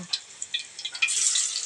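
Saba bananas frying in a small amount of oil, a steady close sizzle with scattered crackling pops that swells louder toward the end.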